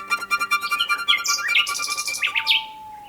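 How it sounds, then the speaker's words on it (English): A nightingale sings alone at close range on a clear night, loud and piercing, pouring out rapid repeated notes, trills and sharp whistles that build, with a long sustained whistle near the end. "You can hear a nightingale almost on a clear night over a mile away"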